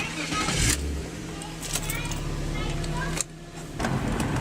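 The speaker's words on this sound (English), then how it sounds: "You need to move that car, needs to go in that garage." An automatic-transmission car being moved into a garage, its engine giving a steady low rumble with slight swells of revving throughout, close by, as people talk in the background.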